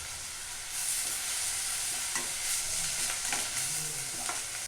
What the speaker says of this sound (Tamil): இது நல்லா ஊறி இருக்கிறதுனால வதக்கி விட்டால் போதும்